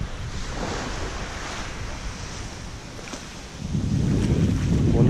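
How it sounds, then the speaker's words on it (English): At Magens Beach, wind buffets the microphone over a soft wash of waves, then the surf swells louder and rushes in strongly for the last couple of seconds. "Magens Beach, and this is one of the top ten beaches in the world."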